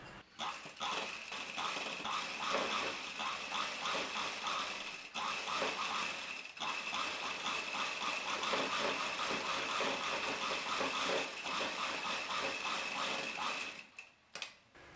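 A sewing machine runs steadily, stitching the folded hem of a dhoti salwar at the ankle, with a continuous mechanical whir and rapid needle ticking and two short pauses before stopping near the end.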